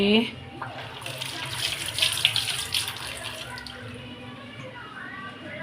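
Mutton is rinsed under a running tap, with water splashing steadily into a sink at close range and a brief voice near the start.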